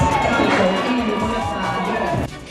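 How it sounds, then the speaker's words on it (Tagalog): A crowd of boxing fans cheers and shouts loudly as Manny Pacquiao arrives, a dense roar of voices that holds steady and then drops off suddenly near the end. "lalong lumakas ang hiyawan ng fans"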